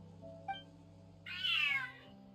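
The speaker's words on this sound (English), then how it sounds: "Angry cat." An angry cat meows in a video game, one strained, rising then falling yowl heard over steady game background music, loud and close, preceded by a short chime.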